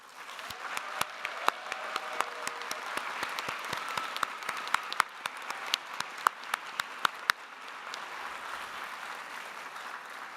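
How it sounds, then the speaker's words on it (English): A large audience applauds at the 2024 Humphrey School commencement ceremony, steady sustained clapping from a crowd with sharper individual claps standing out, heard at a moderate distance in a hall. "Let's just pause for a moment and give them a round of applause."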